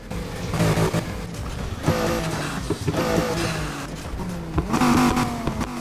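A tuned Thai-style pickup truck's V8 engine revs hard in the Need for Speed Heat video game, loud and close, rising and falling in repeated throttle blips without any voices.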